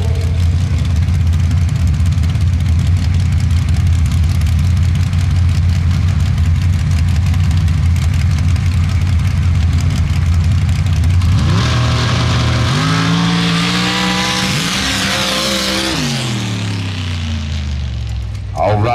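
Outlaw Pro Stock drag racing cars, including a black Chevy, idle at the starting line with a deep, loud rumble, then rev up in rising, sweeping engine tones toward the end, heard up close at an outdoor drag strip.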